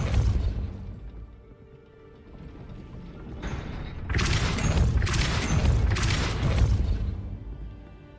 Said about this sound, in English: Push the gate open, don't blast it.